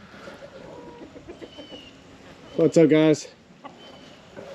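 Chickens on a farm, soaked after a windstorm, let out a brief loud burst of clucking and squawking that rises over someone speaking close by.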